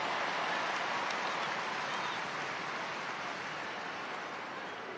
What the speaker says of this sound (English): Crowd like that moment.